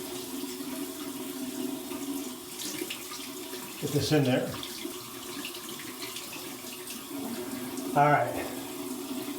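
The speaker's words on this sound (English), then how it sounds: "go ahead and run some cold water and get this" Cold water runs steadily from a tap at a sink during a safety razor shave, a constant hiss with a couple of louder splashing swells, while a person briefly speaks.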